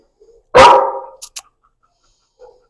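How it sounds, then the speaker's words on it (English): A shepherd-type dog named Cooper, during a training session, lets out one loud, close bark, followed by a few faint clicks and small noises in an otherwise quiet room. "he's a little bit of an adrenaline junkie in that barking"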